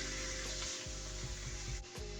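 Ground meat sautés with onion in a pan, a quiet steady sizzle with a few soft stirring scrapes, heard close with no voices.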